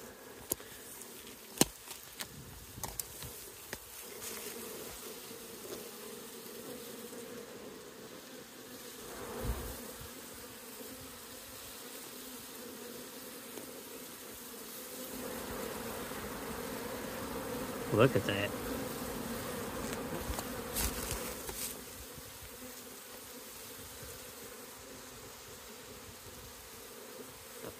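A steady, close hum of many honeybees buzzing at a hive entrance as new bees funnel out, swelling louder at times, while a person speaks briefly over it.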